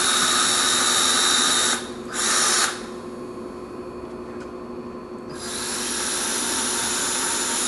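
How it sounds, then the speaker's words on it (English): A drill enlarges small holes in wood for a drywood termite treatment, a steady high whine that cuts out briefly twice, then drops to a quieter, duller grind before rising again near the end. "What he's doing here now is just enlarging those holes just a little bit to accommodate that needle."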